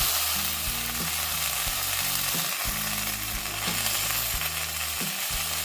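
Water spinach (kalmi greens) frying and being stirred in a pan with turmeric, a steady loud sizzle broken by repeated scraping stirs, with a low hum running underneath; no talking.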